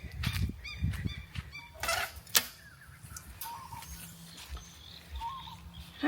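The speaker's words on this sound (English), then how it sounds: "We have got some duckies and turkeys waiting for their breakfast." Ducks and turkeys on a homestead waiting for breakfast in the morning, calling out in scattered honks, quacks and gobbles, some close and some farther off, with brief clattering noises in between.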